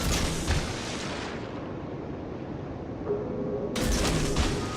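Tank cannon fire in an online video game, booming heavy shots at the start and again near the end with a rumbling tail between, loud and close, no talking.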